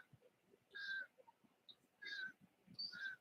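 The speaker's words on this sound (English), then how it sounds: "That bird is loud." A bird gives three loud, clear calls spaced about a second apart, each one sharp and ringing over a faint, quiet background.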